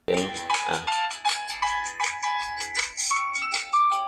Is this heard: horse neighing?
no